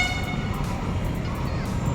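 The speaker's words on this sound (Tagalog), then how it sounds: "So ito na may paparating ng tren." A train approaches a station platform as a steady low rumble fills the air, with faint horn-like tones and background crowd noise throughout.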